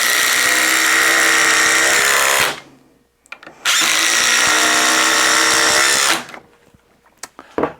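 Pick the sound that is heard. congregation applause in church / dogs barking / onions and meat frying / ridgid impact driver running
ridgid impact driver running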